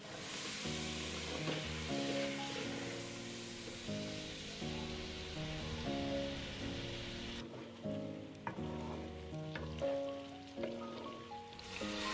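Pork frying Garo style in a pan, a soft steady sizzle under a backing of layered sustained musical tones, with occasional clinks of stirring and a few short pauses, no talk.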